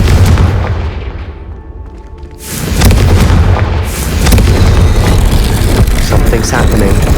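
Confringo spell explosion from Hogwarts Legacy: a loud, deep boom bursts in after a short rumbling lull and rolls on as a dense, sustained blast over game ambience.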